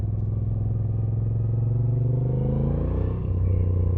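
A Moto Guzzi V7 Sport 2025 motorcycle engine rumbles steadily at low revs while riding through town, close and loud, with its pitch shifting slightly as the throttle changes.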